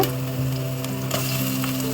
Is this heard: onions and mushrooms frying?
yes